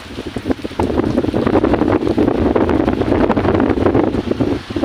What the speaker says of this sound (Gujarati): પવન છે અને વરસાદ